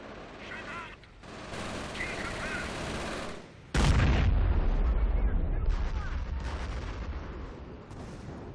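Artillery barrage in the video game Company of Heroes: a continuous rumble of gunfire and battle noise, then a loud, heavy shell explosion with a deep boom that rolls on into sustained battlefield din; no voices.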